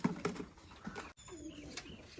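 A pigeon held in the hand gives soft, low cooing and rustling close by, in a few brief bursts with a short break midway, quiet and unaccompanied by talk.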